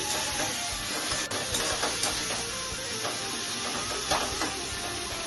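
Spice paste and tangra fish fry together in hot oil in a home kitchen for a Bengali jhal curry, giving a steady, close, dense sizzle and hiss with faint stirring and no talk.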